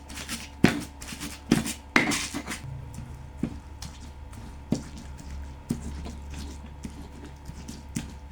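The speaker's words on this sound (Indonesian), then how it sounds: "Ini bumbu untuk bikin botoknya kita haluskan." A spice paste of chili, tomato and garlic with sugar and salt for botok lamtoro is ground by hand. Irregular heavy knocks and squishy pounding strokes come up close, with quieter gaps between them.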